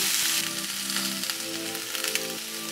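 Mushrooms and capsicum fry in a pan before any salt goes in, giving a steady, loud sizzle that stays near and continuous for the whole stretch, with no voices over it.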